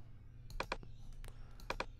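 Quick, light mouse clicks come while cutting an audio file with the scissors tool in Logic, a few crisp taps spread over two seconds over a low steady hum with no talking.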